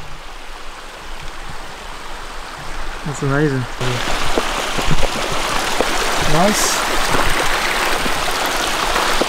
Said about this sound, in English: Listen to that splashy flow on a hot summer's day.